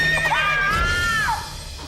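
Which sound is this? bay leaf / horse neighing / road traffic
horse neighing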